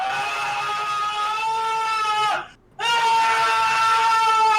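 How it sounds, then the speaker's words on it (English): A played scream sound effect, a sustained shrill wail that breaks off for a moment and then resumes just as loud, with no talking over it. "Should I play the scream?"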